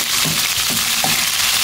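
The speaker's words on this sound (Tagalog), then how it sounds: "Saute the onion" Onion and tomato sauté in hot oil in a pan, giving a loud, steady sizzle with a few soft stirring scrapes, and no one talks.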